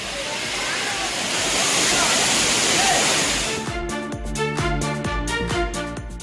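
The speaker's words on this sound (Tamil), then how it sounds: "ஆர்ப்பரித்து கொட்டும் அருவியில் குளித்து மகிழ்கின்றனர்" Courtallam Main Falls in Tenkasi roars as a loud, dense wash of falling water, steady for the first few seconds before music with rhythmic beats takes over and masks it.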